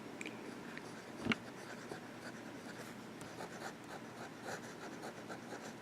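Sailor Pro Gear Slim fountain pen with its nib turned over for reverse writing on paper, giving faint, soft scratchy strokes with one brief louder tick near the start, quiet and close.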